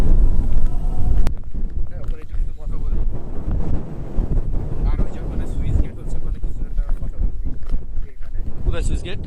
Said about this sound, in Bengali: প্রচুর বাতাস এখানে প্রচুর